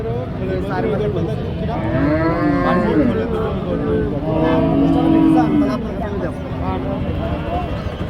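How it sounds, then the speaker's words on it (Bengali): Cattle moo repeatedly at a Saturday cattle market in Satmile, with drawn-out, wavering calls rising over a constant crowd hubbub and nearby chatter. "এই যে গরুটা দেখা দেখি চলতেছে"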